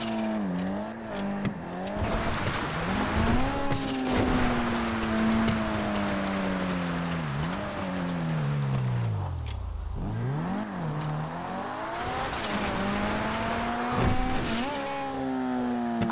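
A car in GTA 5 speeds toward a ramp for a jump, its engine revving up and down in rising and falling sweeps with loud, close acceleration and some tire noise under a rushing background.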